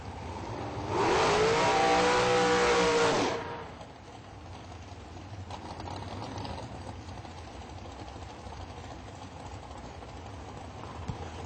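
A drag racing car does a burnout at an IHRA Pro-Am at Union County. A loud, roaring engine burst lasts about two seconds and then drops to a low background rumble.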